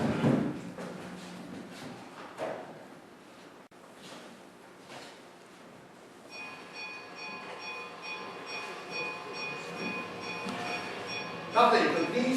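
A recorded train sound effect played in a theatre: a train rumbles along at a steady pace with clattering wagons and a sustained metallic tone, growing louder near the end.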